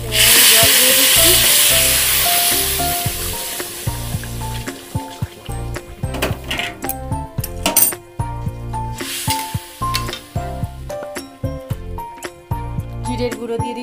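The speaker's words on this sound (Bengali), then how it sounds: "এবার আমি জল দিয়ে দিচ্ছি।" Water poured into a pan of spiced curry sizzling on the heat sets off a loud hiss that fades over a few seconds. Clinks, stirring and steady background tones follow.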